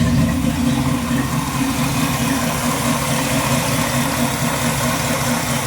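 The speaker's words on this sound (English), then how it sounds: "It's actually idling 800 RPMs." A 1955 truck engine idles steadily at about 800 RPM, a continuous low rumbling drone with an even mechanical throb, close and fairly loud with no other sounds over it.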